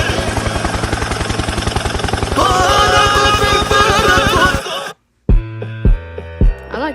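A helicopter sound effect from the video game GTA 5, with steady thumping rotor pulses and engine whine that run loud and continuous for several seconds, then cut off before other short game tones follow.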